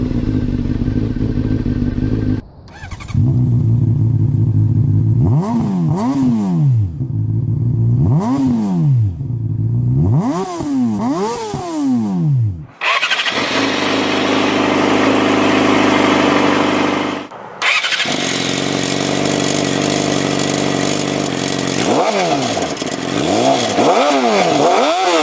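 A Honda CBR600RR 600cc sport motorcycle starts up and runs, loud and close, with repeated sharp throttle revs rising and falling, a steady high idle drone in between, and more revving near the end.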